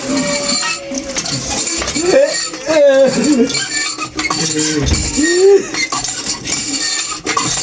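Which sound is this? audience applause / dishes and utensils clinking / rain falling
dishes and utensils clinking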